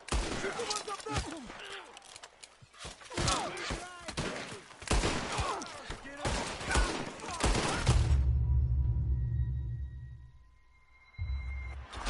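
Gunfire rings out in a Red Dead Redemption 2 shootout against enemies, with a rapid series of sharp, loud shots over about eight seconds, then a low rumbling lull and faint tones.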